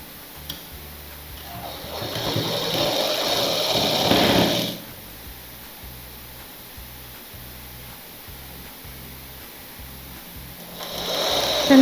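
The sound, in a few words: sewing machine stitching a petticoat seam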